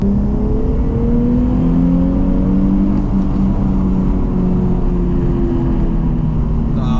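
A 2004 Nissan 350Z revs hard under acceleration on a dry road, its engine note climbing steadily in pitch, loud and continuous throughout with no talk.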